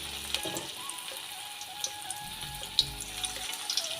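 Small pieces of mustard flower pakora batter sizzle and crackle in hot oil in a wok, a steady close frying hiss with scattered sharp pops and no talking.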